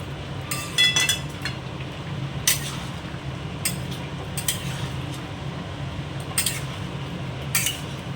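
Tomatoes stirred into mutton cooking in a pot for a spiced curry: a steady low simmering rumble with scattered metallic scrapes and clinks of a spoon against the pot.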